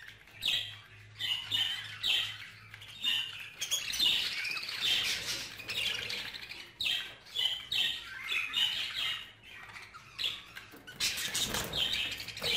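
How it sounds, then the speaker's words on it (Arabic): A flock of budgerigars, one male among twenty females, chirps and squawks continuously in close, busy chatter with occasional louder calls and a faint low hum beneath. "هذا المقطع فقط للمتابعة وملاحظة ماذا سوف يحدث مع الطيور"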